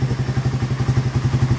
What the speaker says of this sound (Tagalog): So ito na yung andar niya ngayon.